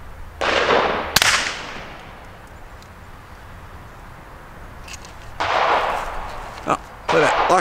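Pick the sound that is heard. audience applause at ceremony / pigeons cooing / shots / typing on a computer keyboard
shots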